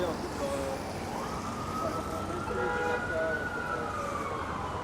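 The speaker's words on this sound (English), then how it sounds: "there's an ambulance that way." Ambulance siren wailing on a New York City street in the Flatiron District at night, rising and holding its tone at a moderate distance over steady traffic rumble.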